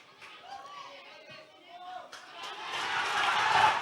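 A stadium crowd at a Dialog Champions League 2015 football match, Super Sun against Java Lane, swells from a low murmur into loud, broad cheering that builds over the last couple of seconds beneath a commentator's voice.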